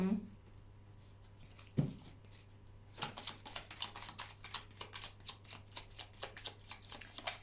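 Tarot cards are gathered and shuffled, giving a quick run of soft, rhythmic flicking riffles after a quiet start with a low steady hum underneath, while someone speaks quietly at the start.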